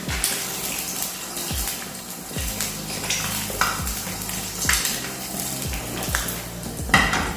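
A bull's eye egg sizzling in a pan while a spatula scrapes and stirs it, a steady frying hiss broken by repeated rhythmic scraping strokes and light pan knocks.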